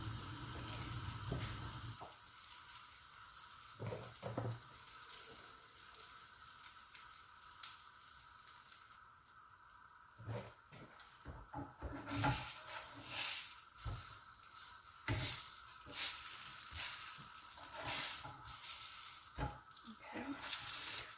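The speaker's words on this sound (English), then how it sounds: "they're frying just as well dry fried" Falafels sizzle and crackle in a pan with little or no oil, a steady frying hiss that grows louder and busier in the second half as they are moved around.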